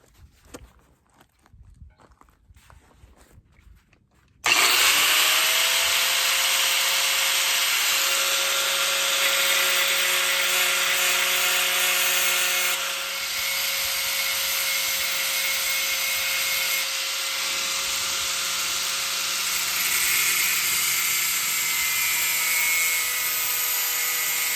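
A power tool whirs up suddenly after a few quiet clicks and handling noises, then holds a loud, steady, high-pitched whine with a faint drone underneath for about twenty seconds while cutting a chunk off a steel angle iron on a work surface.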